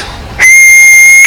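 Steam train whistle in Train Sim World, starting abruptly after a brief moment of engine noise and holding as a loud, steady, piercing tone to the end.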